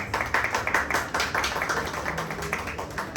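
An audience at a university book-fair event applauds a speaker, a moderate crowd clapping in uneven pulses that swell and ease across the clip.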